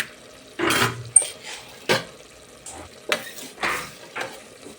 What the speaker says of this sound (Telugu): టమాటా ముక్కలు ఒక 10 మినిట్స్ దాకా ఉడకనివ్వండి.